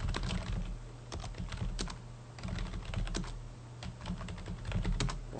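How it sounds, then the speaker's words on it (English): Keys clatter on a computer keyboard in steady, fast, close-up typing that runs throughout at a moderate level with no voices. "I can type"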